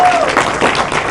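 Theater audience applause, a broad rush of many hands clapping together at a steady, loud level, with a voice speaking over it.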